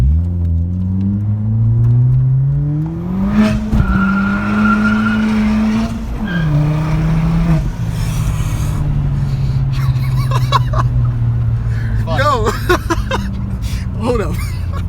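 A stage 3 Ford Fiesta ST pulls hard on an empty straight road, its engine note climbing loud and close through the gears with brief dips at the shifts, while excited voices talk over it inside the car.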